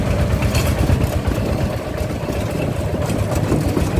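A tractor engine idles steadily nearby, a low rumbling chug that holds an even pace with slight fluctuations throughout.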